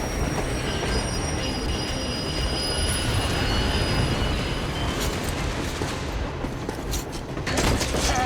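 A heavy armored train from Metro Exodus rolls along steadily with a loud, continuous rumble and high metallic wheel squeal, and the noise swells toward the end.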